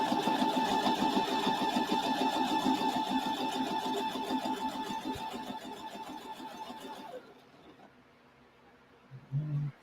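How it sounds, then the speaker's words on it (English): A sewing machine runs a seam joining black, orange and white quilt block pieces, humming in a steady rapid stitch for about seven seconds, then halting into near silence before a short muffled bump. "we're going to sew that way"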